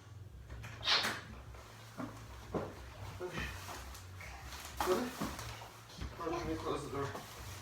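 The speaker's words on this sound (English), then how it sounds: "Let me close the door." An indoor door is pulled shut with a couple of sharp thuds and clatters over a low background hum, while people keep talking.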